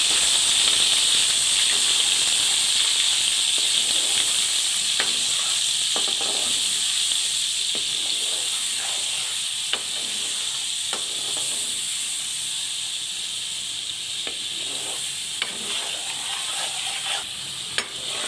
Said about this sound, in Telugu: అల్లం వెల్లుల్లి పేస్ట్ బాగా ఫ్రై చేసుకోవాలండి